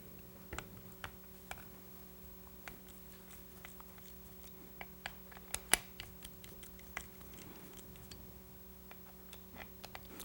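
T25 Torx screws are worked loose from the top of an Edelbrock carburetor, giving scattered small metallic ticks and clicks at an uneven pace over a steady low hum.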